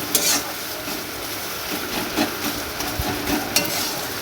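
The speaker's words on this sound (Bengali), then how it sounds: "আমরা এইভাবে খিচুড়ি ফোড়ন দিই" Spices tempered in hot oil for khichuri in a village kitchen, a steady close sizzle with stirring scrapes and a few clinks of a utensil against the pan.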